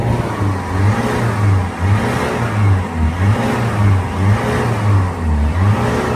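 A Peugeot 5008 engine, not fully warmed up, is revved repeatedly, a close, loud drone that climbs and drops in several regular surges over idle between them.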